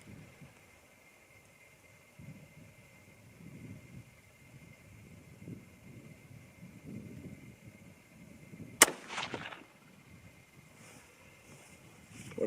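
A single rifle shot from a 25-06 Remington or 6mm ARC firing 100-105 grain bullets: one loud, sharp crack with a short rumbling tail that breaks a quiet, windy outdoor background.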